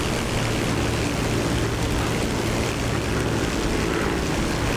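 A Supermarine Spitfire propeller fighter in Microsoft Flight Simulator 2020 coming in to land with its split flaps fully down, a steady, loud, broadband engine and propeller drone with a low hum, holding constant throughout.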